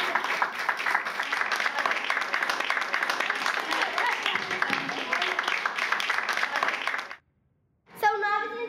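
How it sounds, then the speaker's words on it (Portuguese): An audience gives sustained applause at a poetry week event, dense steady clapping for about seven seconds before it stops abruptly, followed by a brief voice. "Acho que pela paciência da Helena, ela merece, no mínimo, as nossas palmas incansáveis."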